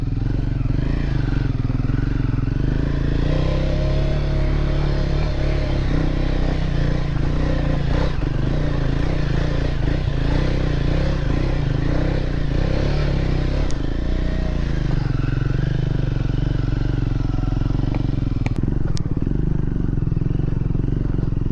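A motorcycle rides on a trail toward Ruby Valley, its engine a steady loud low drone with rumbling and rattling over rough ground, faint scrapes and clatter, and occasional voices under the noise.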